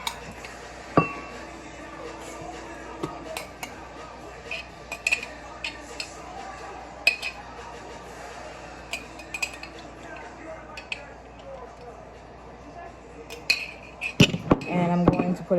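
Clinks of cutlery and dishes against a bowl as fruit preserves with chunky pieces are moved into it for a fruit tart glaze, scattered light taps with a louder cluster of clatter near the end.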